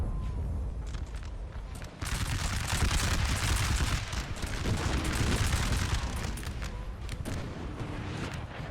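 Artillery cannon fire in the Napoleon Total War video game, a dense stretch of booming volleys and crackling gunfire that swells loud after a brief quieter opening and rolls on continuously with distant battle noise.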